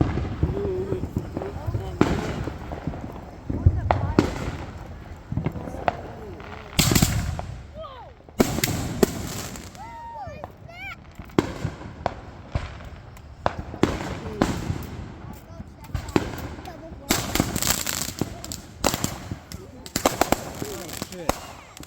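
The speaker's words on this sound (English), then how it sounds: "That's that firework over there going off." Fireworks from a 2025 one-fuse backyard show crack and boom in a rapid, irregular string of sharp bursts, some close and loud, with people talking and reacting between the blasts.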